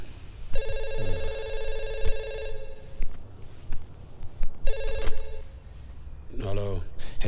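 A landline telephone rings in two bursts of electronic trilling tones, separated by a pause, inside a room during a Hindi comedy scene, with voices and movement around it.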